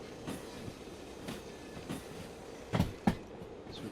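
Locomotives rolling on rails in the Derail Valley train simulator, a quiet rhythmic run of wheel clicks and thumps with two stronger knocks near the end.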